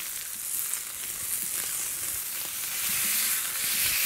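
Prime ribeye steaks sear on a plancha set on an SNS kettle grill, giving a steady, loud, close frying sizzle that rises slightly toward the end, with no voices.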